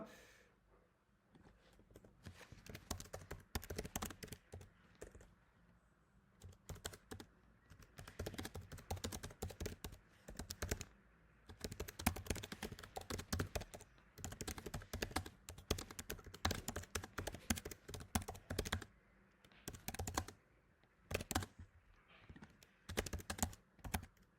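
Fast, uneven typing on a computer keyboard, bursts of close clicking keystrokes with short pauses, going on for over twenty seconds with a faint voice now and then.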